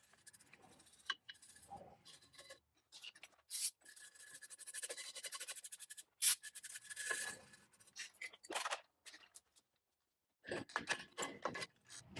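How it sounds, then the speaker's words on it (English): Heavy rust is chipped and scraped off a Ford drum brake on an OBS truck: faint, close, irregular bursts of scratchy scraping and rasping separated by short quiet gaps. "I'm chipping off the heavier rust."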